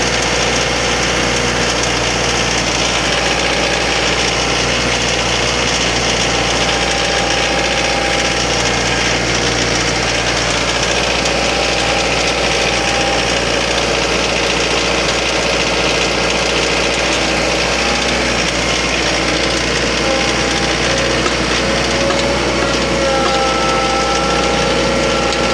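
An auger attachment turning on an engine-driven machine gives a steady, continuous engine drone with a light mechanical rattle, close and unbroken throughout, with no talking.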